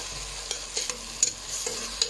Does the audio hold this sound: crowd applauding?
no